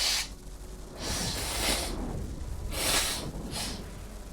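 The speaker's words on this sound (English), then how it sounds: "I need to blow my nose" A person blows their nose in several rough, breathy bursts: a short one at the start, a long honking blow, then two more quick blasts, close and fairly loud with no talk.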